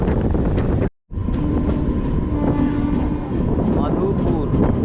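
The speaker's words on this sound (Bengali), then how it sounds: "মধুপুর জংশনে এলো এই মুহূর্তে আমাদের ট্রেন" A local train from Kolkata to Deoghar rumbles and clatters on the tracks as it arrives at Madhupur Junction, with a brief cut near the start, a faint tonal hum and steady noise throughout.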